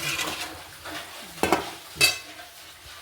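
Raw banana pieces with turmeric and salt being stirred and roasted in a pan, a soft scraping of spoon against the pan with two sharper metallic clinks standing out over a low background.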